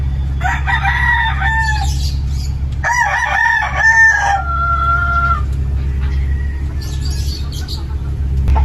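Roosters crow at a gamefowl breeding farm, several loud nearby calls following one another with a fainter crow near the end, over a constant low mechanical hum.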